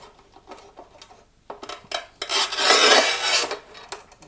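Glass tile is scored and cut on a tile-cutting machine, a few short scrapes giving way to a loud, sustained gritty rasp about one second long, close up and alone without talk.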